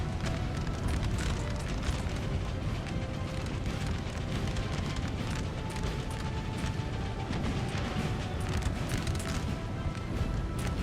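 Musket fire rolls on through a Napoleon Total War battle between Prussian and French forces among huts, a dense continuous crackle of shots over a low rumbling din at steady loudness, with no voices.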